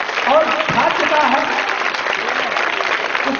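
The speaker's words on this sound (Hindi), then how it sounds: "आप लोग जोर से तालियां बजाएं" A school audience applauds a student who won first place in a competition, the clapping dense and steady for the whole stretch, with a voice speaking over it.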